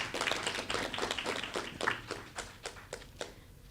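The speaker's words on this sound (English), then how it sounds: "So let's give him a round of applause." Applause for a colleague at the official launch of a Productivity Awareness Week, a modest crowd clapping steadily in a room for a few seconds before the clapping thins and fades out.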